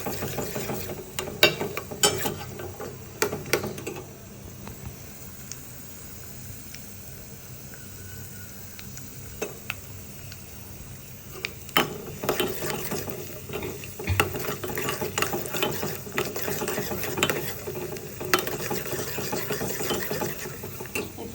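Dry fruits and raisins frying in a pan, a low bubbling sizzle with scattered clicks and metallic pan rattles, steady and close, with no voices.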